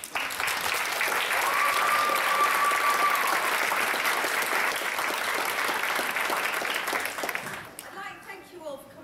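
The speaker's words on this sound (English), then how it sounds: "the children a huge round of applause." An audience at a schools music festival applauds children after a performance, dense sustained clapping that fills the room and fades near the end as a voice begins.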